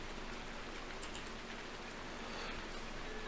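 Steady rain falls in Farming Simulator 19, a constant even hiss of drops on surfaces with a few brighter patters, moderately quiet and with no voices over it.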